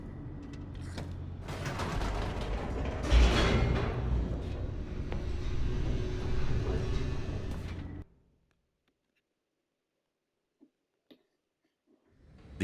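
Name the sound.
elevator machinery descending, from the video game The Stanley Parable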